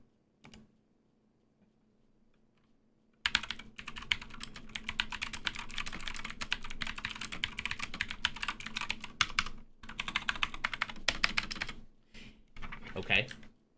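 Close, brisk typing on a computer keyboard, a dense run of clattering keystrokes that starts abruptly after near silence and breaks off in short pauses before resuming.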